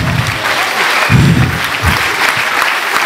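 Loud, dense applause fills a dance event in Močenok, with many hands clapping steadily and a voice briefly audible underneath.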